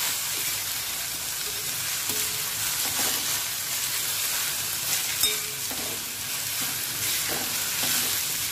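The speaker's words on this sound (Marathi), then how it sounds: "कांदा शिजायला आला की ह्याला असं हे हलकं तेल सुटायला लागेल आहे साईडने" Chopped onion cooking in oil in a pan for a spicy Vidarbha-style onion chutney, with a steady sizzle and occasional scraping stirs, moderately loud and without speech.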